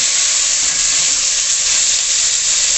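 Beef strips sizzle as they go into a hot Dutch pot, a loud, close, unbroken hiss of searing meat with no voices.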